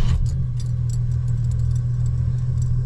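A 1954 Chrysler Windsor Deluxe inline-six runs at a steady low idle just after starting, a close, even engine hum with faint metallic jingling over it.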